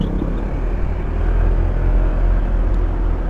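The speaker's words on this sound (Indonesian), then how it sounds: "mobil truk juga cuy, mobil truknya banyak anjay" Heavy road traffic rumbles past a motorbike rider on a busy road, with large trucks passing close by as a steady, loud low drone with no pauses.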